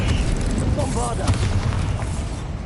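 A Bombarda blasting spell explodes in Hogwarts Legacy with a loud, booming burst that lingers as a rumbling roar under a shouting voice.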